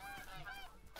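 Geese honk in the hunting game theHunter Call of the Wild, with a quick series of nasal, reedy calls that sound somewhat distant and faint, without any talk over them.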